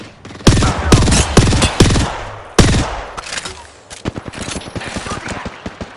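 Video game combat in which enemy weapons fire: a few heavy, spaced shots open the passage, then a quicker run of sharper reports follows, loud and close, with brief voice-like sounds mixed in among the shots.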